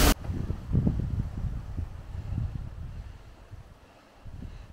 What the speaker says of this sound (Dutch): Het is aardig gaan waaien vandaag.